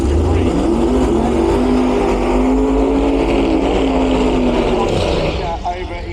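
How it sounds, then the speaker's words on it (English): A loud, deep Ford Capri drag car engine idles and burbles through twin exhaust pipes with a lumpy, rumbling tone, steady throughout before easing slightly at the end. "twin exhaust pipes out either side of this beautiful Ford Capri"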